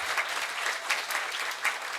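Audience at a Javanese-language talk applauding, a steady dense burst of clapping throughout, fairly faint and without speech.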